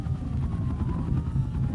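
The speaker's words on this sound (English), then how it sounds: "he dropped the helicopter in front of the fleeing truck" A police helicopter lands in front of a fleeing truck. Its engine and rotor make a steady, loud, low roar that continues without a break.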